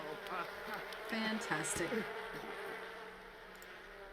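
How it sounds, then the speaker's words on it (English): Buzzing bees in The Sims 4, a soft continuous insect drone with brief louder swells, faint in the background while a person says a word over it. "Bond with your bees."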